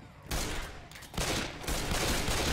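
Gunfire in Left 4 Dead 2, a dense, loud burst of rapid shots, mostly continuous with a brief dip.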